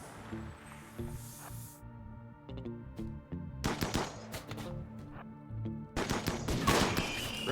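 Video game combat with repeated rifle gunfire, bursts of rapid shots and scattered single cracks spread across several seconds, fairly loud over a busy game mix.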